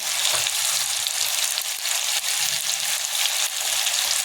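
Chili powder stirred into hot cooking oil in a home kitchen pan while making a spring onion vegetable dish, giving a steady, loud, close sizzle and frying crackle with no voices throughout.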